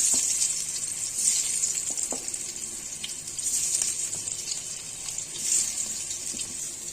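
Potatoes dropped one by one into hot oil while frying for a katla fish curry with tomato give a steady, close sizzle with small irregular crackles, with no talking.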